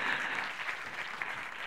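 An audience at an evening science lecture in a library applauds warmly, a soft, even patter of many hands heard from a slight distance, fading a little toward the end.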